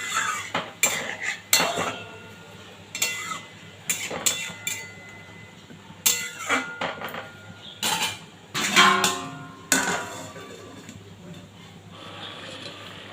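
A utensil stirs prawn malai curry in a pan, with repeated clinks and scrapes of metal against the cookware in an irregular rhythm, close and fairly loud.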